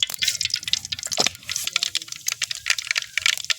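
Mustard seeds spluttering in hot oil in a pan while making a spinach stir-fry, giving a dense run of quick crackles and pops that continues steadily throughout, close by and fairly loud.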